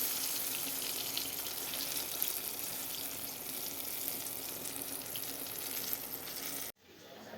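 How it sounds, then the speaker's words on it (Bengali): Eggplant slices fry in a pan with a constant, near hiss of hot oil. The sizzle runs unchanged for several seconds, then cuts off abruptly near the end. "বেগুনগুলো ভেজে নেই, তারপর আবার ফিরে আসবো"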